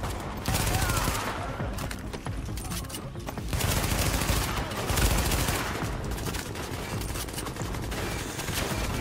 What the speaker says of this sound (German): Mein Gott, dein Maschinengewehr ist echt penetrant.